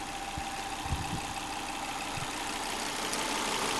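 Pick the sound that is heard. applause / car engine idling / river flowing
car engine idling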